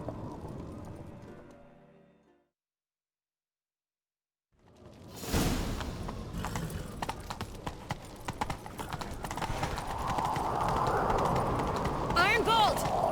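Hooves gallop in a steady, driving clip-clop as a horse runs in The Witcher 3, starting after a brief silence and continuing loud and close with whooshing motion and voices from the game.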